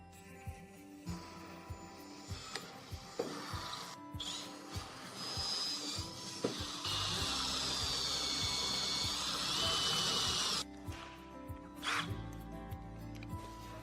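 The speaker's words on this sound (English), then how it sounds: "Change the drill to 7 millimeters and drill all 3 holes to 7 millimeters" Power drill boring holes through the reinforced door plate of a Volkswagen Transporter T5/T6, with short bursts of whirring and clicks of the trigger, then a longer sustained whine of drilling before stopping, close by with no talk.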